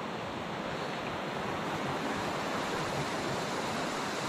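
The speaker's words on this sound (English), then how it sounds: "There's the brook." Stony Brook in Vermont flowing along a forest trail, a steady, full rushing wash of water that holds constant throughout, close by and with no voices over it.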